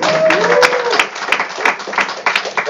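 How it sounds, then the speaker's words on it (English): An indoor audience at a presentation breaks into a short burst of applause, dense clapping mixed with a few crowd voices. "Let's give a big round of applause"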